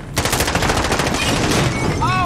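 Call of Duty: Warzone gunfire indoors, a loud, rapid automatic burst of close shots in quick rhythm, with faint tones and game sounds near the end.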